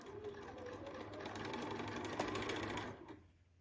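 A sewing machine with a quarter inch foot stitches strips of quilt fabric, whirring steadily and rapidly for about three seconds before stopping abruptly.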